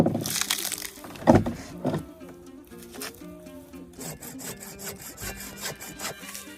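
A hand saw cuts wood in a snowy grassland home, with rhythmic rasping back-and-forth strokes, loud and close, punctuated by a few knocks and thuds.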